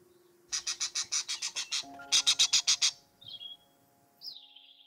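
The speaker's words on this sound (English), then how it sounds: "P for parrot." A parrot gives a run of rapid, evenly pulsed squawks in two close bursts, followed by a couple of short, higher calls, loud and near with no talking.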